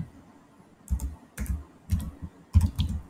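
Vim command typed on a computer keyboard in Linux: about five distinct, close key presses at an uneven pace, each a sharp tap, with near silence between them and no talking.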